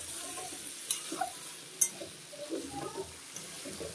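Paneer with beans, carrot, soybean and potato stirred in a frying pan, giving a faint, soft sizzle broken by a few light scrapes and clicks from the spoon.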